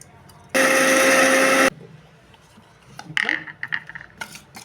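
A mixer grinder whirs loudly for about a second while grinding bitter gourd spice powder, then stops, followed by clinks and rattles of the jar.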